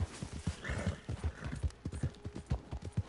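A horse's hooves clip-clop at a steady trot in the video game Red Dead Redemption 2, riding off the road. The footfalls are clear, rhythmic and fairly quiet, with a faint snort or whinny mixed in.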